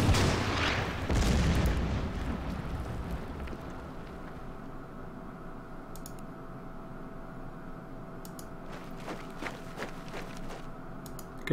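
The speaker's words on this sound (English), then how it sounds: "let's keep firing on" Artillery firing on a town in the World War II strategy game Order of Battle, set in Yugoslavia near Belgrade: a couple of heavy booms at the start, then a low rumbling wash of distant fire.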